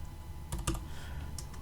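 Keys clack on a computer keyboard in a quiet room, a short cluster of soft taps followed by a brief pause and a couple more strokes.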